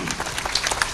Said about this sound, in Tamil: அதனால் ஃபாதர் ராபர்ட் அவர்களுக்கு ஒரு ஜோராக கைத்தட்டுங்க பார்ப்போம்.